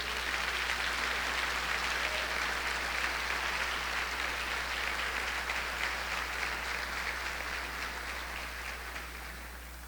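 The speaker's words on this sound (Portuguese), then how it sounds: "Só quem recebe, dá um aplauso aí a Jesus." A church congregation applauds in sustained, dense clapping that carries on evenly for about ten seconds, fading slightly toward the end, with a low steady hum underneath.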